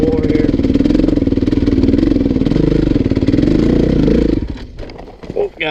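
A 2016 KTM 350 EXC-F dirt bike engine runs loud and steady at a low idle for about four seconds, then drops away, followed by a brief burst of sound near the end.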